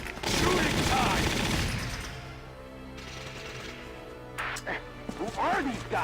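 Rapid bursts of gunfire crackle in the Valkyria Chronicles video game, loud at first and then thinning out, mixed with game music and character voices speaking over the shots.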